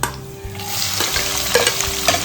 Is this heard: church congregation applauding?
no